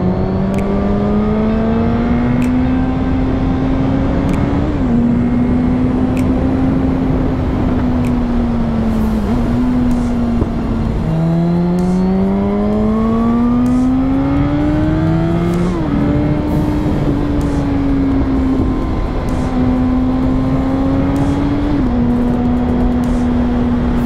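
A Suzuki GSX-R motorcycle engine drones loud and close as the rider accelerates progressively, pitch climbing through each gear before dropping at the shifts, with wind rush throughout.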